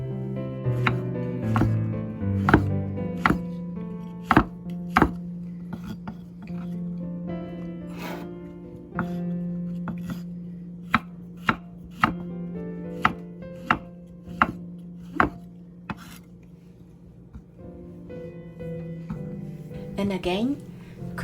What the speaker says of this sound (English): Now cut the top head portion of the mushroom into bite-sized pieces.